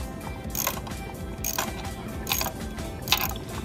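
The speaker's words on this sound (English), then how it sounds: "we're going to use our socket wrench, and we're going to loosen but not remove" A socket wrench loosens motor bolts in a few bursts of ratcheting clicks, each under a second long, with short pauses between them over a rumbling background.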